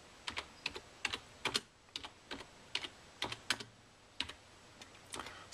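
Keys on a computer keyboard clack in short irregular clusters of crisp taps, close and clear against a quiet room, while someone types a command during a disk-partitioning setup.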